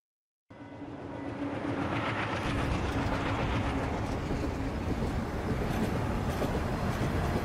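A train runs steadily in the video game Eternights, a dense continuous rumble with faint clickety-clack that starts abruptly after a brief silence and holds loud and even throughout.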